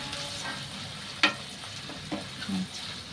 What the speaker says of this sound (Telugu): అలాగే ఒక 2 ఎండుమిర్చి, అలాగే ఒక ఉల్లిపాయ ముక్కలు ఇలా సన్నగా తరుపుకొని వేసుకొని వేయించుకుందామండి